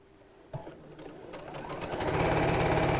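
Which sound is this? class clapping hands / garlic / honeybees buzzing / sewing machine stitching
sewing machine stitching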